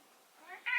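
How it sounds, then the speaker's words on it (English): A house cat meows close by, a rising, faint call that swells into a brighter, louder meow at the end, with no talk over it. "That's my cat going."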